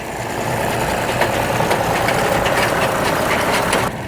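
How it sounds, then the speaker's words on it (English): A Massey Ferguson tractor engine runs among vintage machinery at a haymaking festival in Trim, giving a steady, close, unbroken hum with a rough mechanical texture and no voices over it. "can you hear the lovely hum of that Massey Ferguson engine?"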